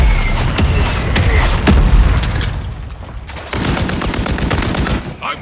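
Gunfire in the video game Call of Duty MW3 on the Favela map: loud bursts of rapid shots and heavy booms come in clusters, with a short lull in the middle and faint radio chatter beneath.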